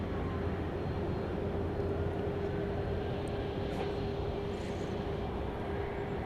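An aircraft roars at Dallas Love Field airport, a steady broadband engine rumble that holds constant throughout, fairly loud and unbroken.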